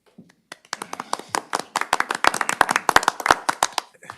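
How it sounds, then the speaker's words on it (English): Applause at a City of Victoria city council meeting: a few scattered claps at first, then several people in the chamber join in a crisp, uneven patter that carries on to the end, fairly close and moderately loud. "Can we applaud?"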